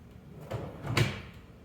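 A shaker-style cabinet drawer front on soft-close slides glides shut with a muted sliding rush and a gentle cushioned thump at the end, close by and without talk.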